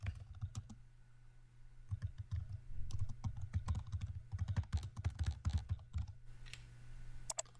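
Rapid keystrokes on a computer keyboard while a label is typed in project management software, continuous irregular clicking up close with brief pauses, no talking.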